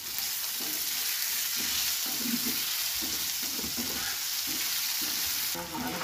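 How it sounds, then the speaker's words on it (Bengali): Tomatoes sizzling in a hot pan as they soften, a steady frying hiss with repeated scraping stirs of a spoon, close and continuous. "যতক্ষণে টমেটোটা গলে যাচ্ছে ততক্ষণ পর্যন্ত একটু নাড়াচাড়া করতে"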